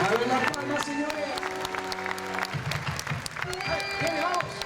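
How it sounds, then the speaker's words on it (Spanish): An audience claps in steady rhythm along with an Argentinian folk dance, playing zamba, gato and chacarera. The clapping is dense and continuous over music with sustained tones, and voices are heard beneath it. "A ver las palmas, señores."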